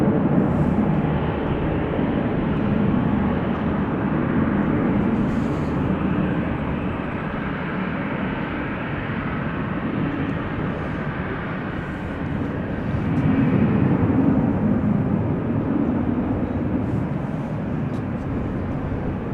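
A Dash 8-100 turboprop takes off from runway 04 at Amsterdam Schiphol, a sustained broad engine roar heard from a distance that swells and fades gently over nearly twenty seconds.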